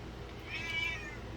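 An indoor cat gives a single short, rising and falling meow, faint against a quiet room background, with no talking.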